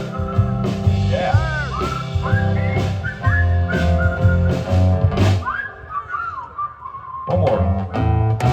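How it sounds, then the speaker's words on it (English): A group whistles the melody of a live song over a full band accompaniment, many sliding whistled notes rising and falling in phrases, loud and continuous with the music. "Whistle with us, everybody."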